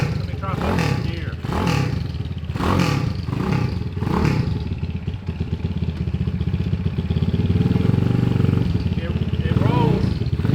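Hot-rodded 190cc Honda Trail 70 motorcycle riding in gear, a loud close engine drone that rises steadily in revs, with someone talking over it.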